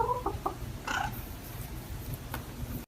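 A chicken gives a few short clucks near the start, followed by a brief louder squawk, over a steady background hiss.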